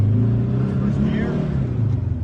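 Car engine with a Vintage Speed 12-inch quick shifter, revving loud and close as it is shifted quickly into second gear, a deep rumbling drone with a brief pitch change and a voice talking over it.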